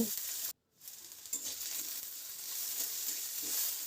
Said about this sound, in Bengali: এবার আলুটাকে রিফাইন্ড অয়েলের মধ্যে একটু ভেজে নেব।